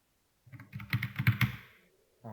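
Keystrokes on a computer keyboard while editing and saving a file in a Linux text editor: a quick burst of clicks and taps, close and clear, followed by a short pause and a final keypress.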